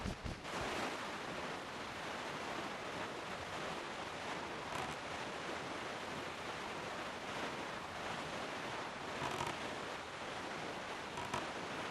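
Broad steady wash of ocean surf and wind rushing past while sailing the open sea in The Legend of Zelda: The Wind Waker, a continuous even roar with no talk over it.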